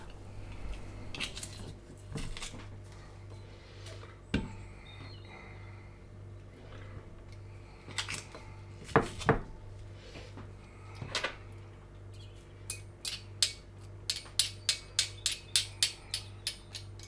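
Crushed garlic is stirred into a chicken marinade for Moroccan tagine, heard as scattered clinks and taps of a utensil against a bowl, growing into a quick rhythmic run of knocks toward the end over a low hum.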